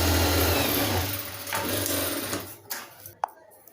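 A sewing machine runs steadily while stitching a blouse lining, its dense mechanical whir continuous for a couple of seconds before slowing and stopping, followed by a few light clicks and a sharp tap.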